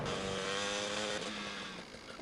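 A motorbike engine in the video game GTA hums at steady pitch, then shifts lower as it eases off, fairly faint and alone without talk.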